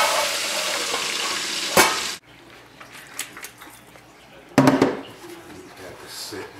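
Chicken and pork frying in about an inch of hot oil give a loud, steady sizzle that drops away, then bursts back with stirring and pan clatter, a voice speaking nearby.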